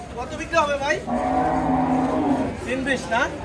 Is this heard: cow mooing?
yes